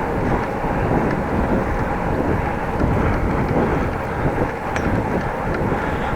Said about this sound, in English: feeling a little headwind.